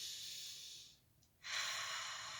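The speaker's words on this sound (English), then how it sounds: "And exhaling on the way down." A person exhales deeply during a gentle shoulder stretch, a soft, airy breath hiss that dips briefly and then swells again, quiet and close with no talking.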